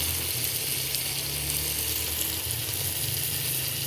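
Tomatoes hiss and sizzle loudly in a hot cooking pot at a rural Kenyan village cookfire, a steady, close, unbroken frying crackle with no talking.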